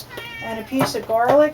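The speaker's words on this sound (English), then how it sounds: "that's the cat in the distance thinking that maybe something's for her" A house cat meows several times from a little distance in a kitchen, short rising cries overlapping a person talking while preparing a kale and avocado salad.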